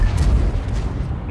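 A deep booming tank cannon shot in World of Tanks, heavy low-end blast rolling out over a second with a dull reverberant tail.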